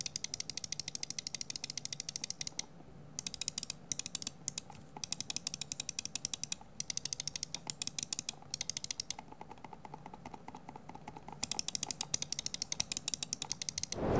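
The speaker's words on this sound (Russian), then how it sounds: "Клик мне традиционно не очень нравится с этими переключателями" Rapid, dense bursts of small plastic clicks from a Razer Naga Pro gaming mouse, its buttons pressed over and over in quick runs with short pauses between, close and quiet, with no talking.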